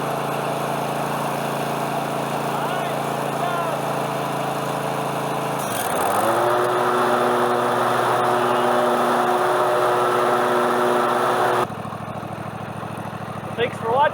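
A lawn mower engine idles steadily while warming up, a continuous buzzing drone that shifts pitch and steadies midway, then drops to a quieter hum near the end.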